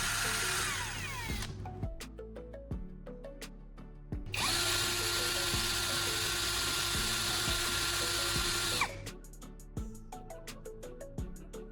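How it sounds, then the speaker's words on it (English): A power drill spins a homemade motorized grinding wheel made from a bolt in its chuck, in short bursts and one long steady whir, with clicks and ratcheting between runs, close and alone. "Now we have a homemade motorized grinding wheel."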